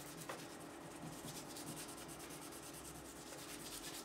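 Polishing a part on a custom Warmoth Strat guitar build with 1200 grit sandpaper gives a continuous faint, fine rubbing hiss with a rhythmic stroking pulse, very quiet and close, alone.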